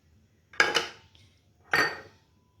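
Two crisp clinks of a spoon striking a bowl while yogurt is added for a steam roast, close and bright, each ringing out briefly against a quiet background.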